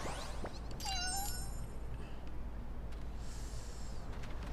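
A black cat and another cat in Lost Judgment give short meows, a couple of brief rising and falling calls early on, fairly quiet over a steady low background hum.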